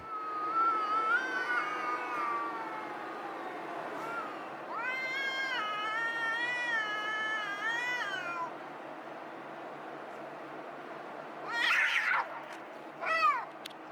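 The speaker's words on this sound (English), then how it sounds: "you never know when you're going to get a cat fight on camera" Two cats fight on a Bangkok street in Chinatown's Talad Noi, trading long wavering yowls and caterwauls over steady street background, with sharper screeching bursts near the end.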